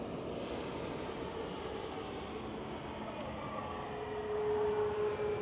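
A SmartLynx Boeing 737 MAX 8 from Faro lands on runway 05 right at Manchester Airport, a steady distant roar of engines and rollout noise that swells slightly toward the end, with no talk.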